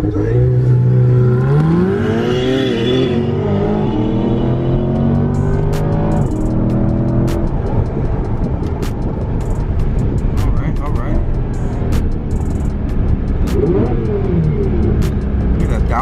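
A C8 Corvette and a Ferrari 488 Pista launch into a race: loud engines rev and climb through rising gears with a sharp roar, and voices talk over the opening seconds before the engine noise dominates.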